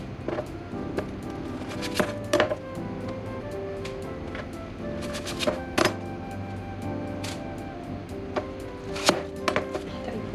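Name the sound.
chopping onions with a knife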